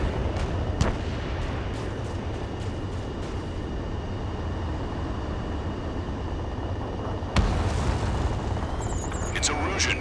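A fighter jet fires a missile amid deep rumbling booms of distant explosions in the Ace Combat 7 combat flight game, a steady low roar with a sharp blast near the end under radio chatter.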